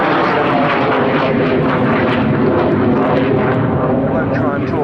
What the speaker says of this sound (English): I won't try and talk over those two Avon engines.